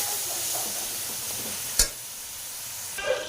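Chicken keema frying in a pan, a soft steady sizzle and hiss with occasional scraping stirs, one sharp clank of utensil against pan midway, faint and close.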